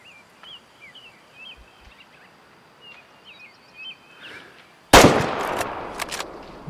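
Faint bird chirps over quiet ambience in the hunting video game Way of the Hunter, then a sudden loud burst of gunfire with several quick cracks fading out.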